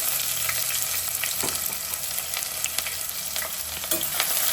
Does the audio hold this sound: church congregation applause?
no